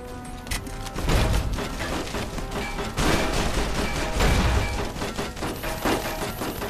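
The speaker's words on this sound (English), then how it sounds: "All these explosions," Explosions in the video game Fallout: New Vegas boom repeatedly amid crackling gunfire, a dense, loud barrage of blasts and debris.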